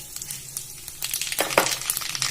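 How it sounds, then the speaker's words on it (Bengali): Cumin, a dried red chilli and black mustard seeds sizzling in hot oil: a bright crackling hiss with scattered pops and a light clink of a utensil, swelling louder midway. "ফোড়ন হিসেবে আমি দিয়ে দেবো প্রথমে সাদা জিরে দিয়ে দেবো একটা শুকনো লঙ্কা আর দিয়ে দেবো কালো সর্ষে"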